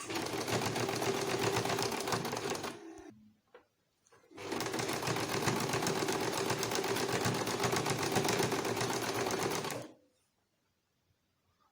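A sewing machine runs along a skirt waistband seam in two long, loud, continuous stretches of fast whirring stitching, split by a short pause with a few clicks, then quiet.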